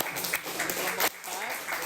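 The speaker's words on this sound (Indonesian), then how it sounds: "kita tepuk tangan buat kelompok 4" Classroom applause for a student group, short and close-up clapping from a small crowd of children in a room.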